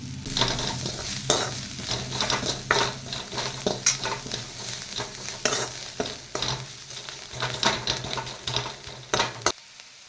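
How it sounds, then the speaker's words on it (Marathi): Cowpea bhaji (chavli) with turmeric being sautéed in a pan: steady close sizzle under repeated scraping and stirring clatters of a spoon against the pan, continuing for about ten seconds before cutting off. "आता एक मिनिटभर पुन्हा याला परतून घ्यायचं आहे"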